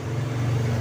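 A Mercedes-Benz R-Class engine roaring from a power steering fault, a steady low hum with a strong constant drone, idling evenly and close with no voices.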